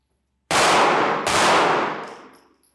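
Two sharp gunshots at a shooting range fired in quick succession on command, loud and close, each with a long fading ring and echo.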